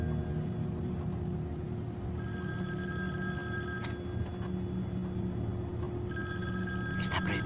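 A telephone rings with a bright, repeating electronic trill in two bursts over a steady low rumble, as if heard from inside a moving vehicle.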